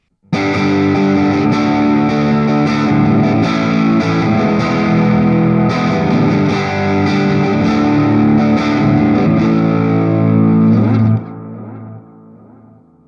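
An electric guitar through a Positive Grid Spark 40 modeling amp on its default amp setting plays sustained, heavily processed distorted chords and notes, thick and slightly muddy, then cuts off abruptly near the end.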